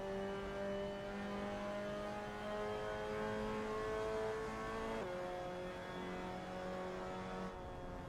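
A race car's engine screams steadily at high revs for several seconds with a brief gear change midway, loud and close with no one talking.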